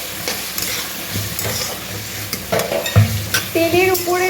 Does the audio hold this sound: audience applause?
no